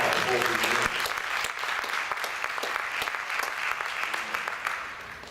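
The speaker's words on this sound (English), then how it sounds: "Would you give our panel a big round of applause before we begin?" An audience at a multicultural church conference gives a conference panel a sustained round of applause, dense steady clapping that fills the room, with a voice audible at the very start.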